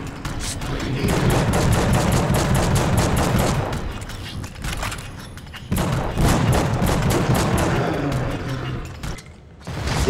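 Rapid, sustained bursts of gunfire and booming shots from the Xbox horror action game The Suffering, with a brief lull midway before the barrage resumes, loud with no voices.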